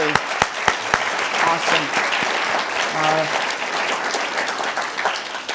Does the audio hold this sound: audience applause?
yes